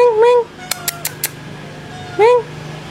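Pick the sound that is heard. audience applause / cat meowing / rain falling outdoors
cat meowing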